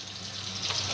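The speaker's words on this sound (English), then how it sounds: "I got to fill my water up." Water running from a kitchen tap into a container, a steady, fairly loud rushing hiss filling the whole moment without any voices.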